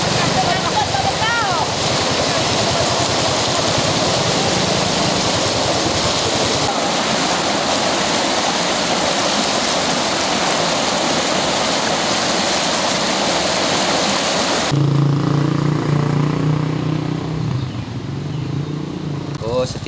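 Floodwater from the Batanghari River rushes through a breach near Muaro Jambi, making a loud, continuous roar under people talking, with a brief motor sound partway through.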